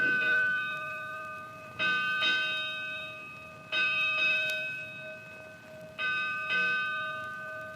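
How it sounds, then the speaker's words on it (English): A historic warship's bell rings in paired strikes, four doubles spaced roughly two seconds apart, each clear metallic clang ringing on and slowly fading, heard close and alone. "let's ring once more the ship's bell"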